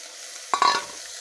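Eggplant hits a hot pan with bitter gourd leaves, a short loud burst of frying and stirring lasting a fraction of a second, then near quiet, with no voices.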